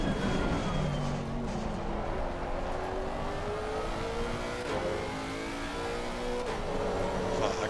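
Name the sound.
race car exiting the pits in a racing video game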